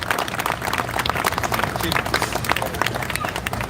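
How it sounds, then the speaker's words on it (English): Outdoor crowd at a Tartan Day opening ceremony in Bryant Park applauding a piper's performance: dense, steady clapping from many hands with some crowd murmur, sustained and fairly near throughout. "I think she deserves another round of applause for that fantastic performance"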